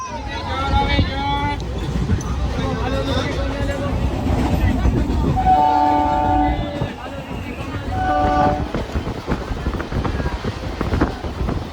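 Train near Dum Dum station, a continuous rumbling and rattling ride with wind noise, overlaid by frequent talking and a few brief tonal squeals or voices.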